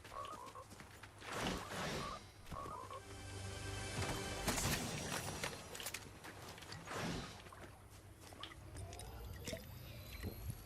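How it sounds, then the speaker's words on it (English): Frog croaking heard during a Deadpool and Wolverine gameplay-style sequence, with scattered croaks amid clattering, thumps and busy background game sounds, fairly loud throughout. "That frog freaks me out, bro."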